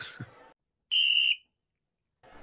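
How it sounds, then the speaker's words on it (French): A single sharp, high referee whistle blast at a football match signalling a corner, lasting about half a second, loud and clear between brief stretches of background noise. "Donc là, le sifflet vient de retentir."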